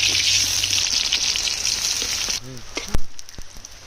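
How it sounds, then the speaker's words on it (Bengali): Chopped onion frying in oil in a wok (kadai) for tempering a Barisal-style shrimp dish: a steady bright sizzle fills the first half, then cuts off, followed by a few sharp clinks and taps. "বাগার দেওয়ার জন্য কড়াই দিলাম, তৈল,"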